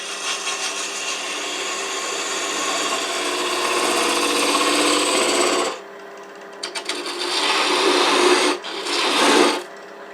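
Woodturning tool cutting a scrap-wood bird's head spinning on a lathe, loud continuous rasping scrape for several seconds, then broken into shorter bursts with brief pauses between passes.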